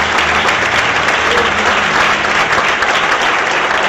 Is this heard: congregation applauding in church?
yes